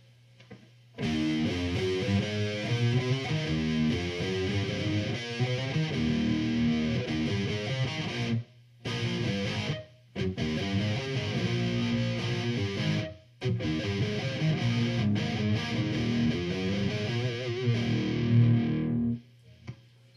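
Heavily distorted electric guitar played through a Crate Blue Voodoo 120H high-gain amp, chugging riffs and sustained chords with short pauses, loud and saturated, no voices.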